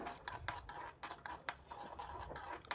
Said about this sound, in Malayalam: ഇനി ഒരു ചീനച്ചട്ടി വെച്ച് ഉലുവയും കടുകും വറുത്തെടുക്കണം.